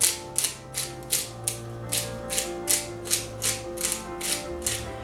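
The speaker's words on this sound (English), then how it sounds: "I will just grind some of this up in here" A kitchen grinder works through ingredients with a rhythmic, repeating mechanical clatter of regular bursts over a steady motor hum, close and fairly loud.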